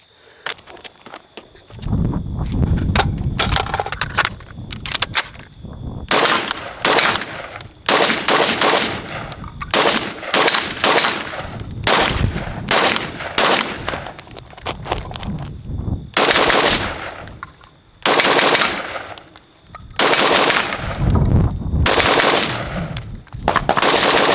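A Steyr AUG A1 5.56 mm rifle with a 20-inch barrel and the factory suppressor plug on suppress setting fires repeated rapid strings and bursts, loud muffled cracks in irregular clusters with brief pauses, no voices.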